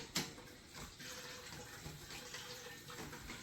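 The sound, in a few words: pouring chicken broth through a strainer into stock pot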